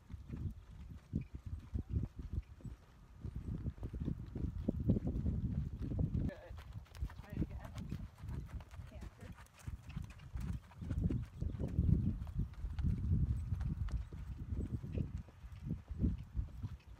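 Tennessee Walking Horse hoofbeats at a running walk, a steady rapid clip-clop of hooves close by, with a person talking over much of it.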